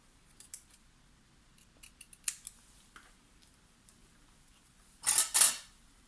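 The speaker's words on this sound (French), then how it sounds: "je découpe le surplus sur les côtés" Scissors trimming excess paper from the sides of a decorated vintage tea bag, a series of small close snips followed by two louder, longer cutting strokes near the end against a quiet background.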